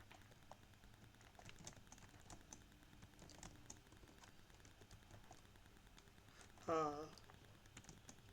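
Light typing on a computer keyboard, soft scattered key clicks running steadily and faintly at close range, with a brief louder rustle near the end.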